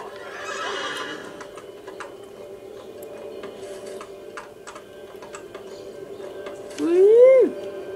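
A horse in the Assassin's Creed Brotherhood video game gives one loud, clear whinny near the end, after quiet faint ticking and light background sounds.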